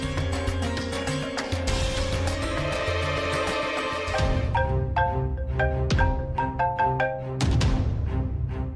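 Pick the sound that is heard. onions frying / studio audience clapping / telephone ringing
telephone ringing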